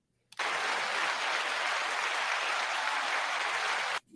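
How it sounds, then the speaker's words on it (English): Audience applause welcoming a show host, starting abruptly and holding a dense, even wash of many clapping hands for several seconds before cutting off sharply. "You even get applause and everything."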